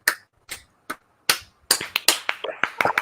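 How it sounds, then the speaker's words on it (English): Hands clap close by, starting as a few sparse, separate claps and quickening into a burst of rapid, uneven clapping. "There's your fucking clapping."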